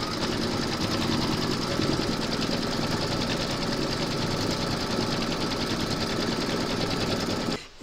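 An embroidery sewing machine stitches an applique parrot, giving a loud, close, continuous rapid needle hum that runs steadily and then stops abruptly at the end.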